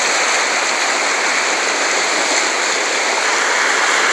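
Floodwater of the overflowing Urucuia river at Ilha do Saco rushes past in a loud, dense, unbroken roar, steady and close with no pauses or voices.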